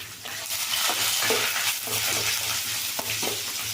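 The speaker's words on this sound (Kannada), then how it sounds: "ಇದೆಲ್ಲ ಎಣ್ಣೆನಲ್ಲಿ ಸ್ವಲ್ಪ ಚೆಂದ ಫ್ರೈ ಆಗಲಿ" Onions, dried chillies and curry leaves fry in oil with a loud, dense, continuous sizzle close by, and occasional soft stirring scrapes rise above it.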